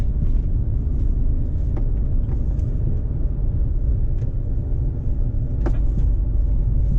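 Steady low road traffic rumble from cars and a heavy vehicle on a UK road in the morning, continuous and fairly loud, with a few faint clicks and ticks over the top and no talking.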